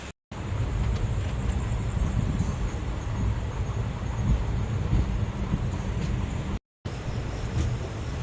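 Tambaram - Bodinayakanur Express train arrives at Tiruvarur Junction, a steady close rumble of wheels and carriages with wind noise over the microphone, broken by two brief dropouts.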